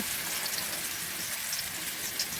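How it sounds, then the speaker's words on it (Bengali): Shrimp fritters (chingri bora) crackle and sizzle steadily in hot oil, a dense continuous frying hiss with scattered tiny pops, close by and with no voices over it. "তেল গরম হয়ে গেছে এখন এক এক করে বড়াগুলো দেখে নিব"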